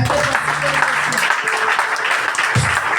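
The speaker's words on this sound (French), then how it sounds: "Est-ce que tu peux acclamer le Seigneur?" A church congregation claps and acclaims the Lord in a dense burst of applause and shouting voices, loud and continuous for the full three seconds.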